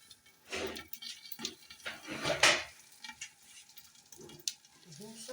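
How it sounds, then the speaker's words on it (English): Mango popcorn kernels popping in a pan as they are stirred: scattered sharp pops mixed with scraping and sizzling, moderately loud and close, with a brief voice near the end. "it has started popping like this, now you have to keep on stirring so that every part of it cooks well"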